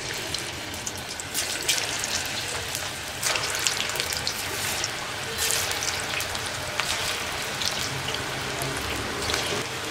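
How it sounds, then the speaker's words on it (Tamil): Ragi pakoda batter fries in hot oil, giving a steady, close sizzle with scattered crackles and pops throughout. "இப்போ நான் மிக்ஸ் பண்ணி வச்சுருக்கிற கேழ்வரகு இதில் போட்டுடுறேன்."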